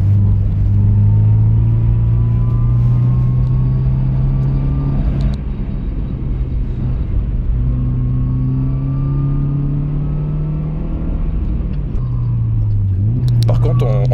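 A Subaru Impreza 2.0R driving on snow gives a steady, loud engine drone held high in the revs, its pitch rising and dipping gently as the car moves, with faint clinks near the end.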